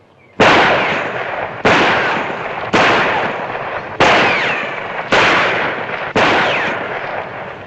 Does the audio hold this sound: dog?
no